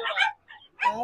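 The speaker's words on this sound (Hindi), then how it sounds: "साथ में कुत्ता भी है आपके दुकान में" A dog at a dog market stall during the Sonpur fair gives two short, close yips or whimpers separated by a brief quiet gap.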